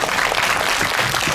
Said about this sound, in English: So a huge round of applause for her.